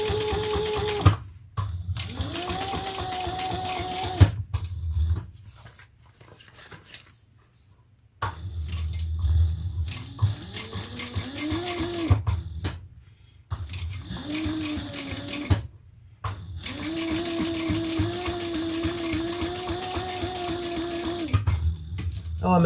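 A home sewing machine runs in several steady motorized bursts with brief pauses between, some short reversing stretches for back stitching, and someone speaks over parts of it.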